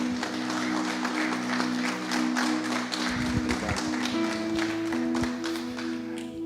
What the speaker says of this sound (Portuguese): Vamos recebê-lo aplaudindo a Jesus?